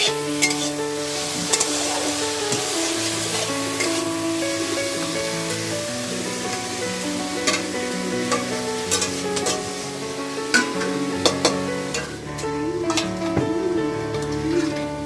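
Egg curry bubbling and sizzling on a home stove, a constant frying hiss with occasional scrapes, while background music plays throughout.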